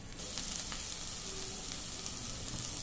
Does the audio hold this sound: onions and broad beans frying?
yes